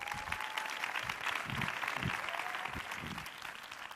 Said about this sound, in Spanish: Un aplauso para Ana Esther.